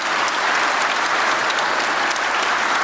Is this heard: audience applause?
yes